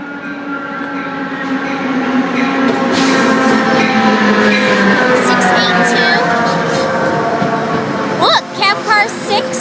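A train arrives at Irvine station, a loud, sustained rumble and wheel-on-rail roar that fills the whole stretch, with brief higher squeals near the end.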